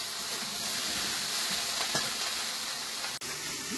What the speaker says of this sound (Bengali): একটু লবণ দিয়ে ঢেঁড়সটাকে প্রথমে একটু ভেজে নেব।